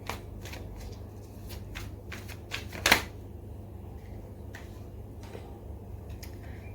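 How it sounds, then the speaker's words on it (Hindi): Tarot cards being shuffled and drawn during a reading, heard as soft, quick papery riffles and flicks with one sharper burst of shuffling midway, close up against a low steady background hum. "मैं थोड़े कार्ड्स और निकालूंगी"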